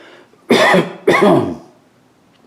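Two loud, close coughs about half a second apart, each a harsh burst, followed by quiet.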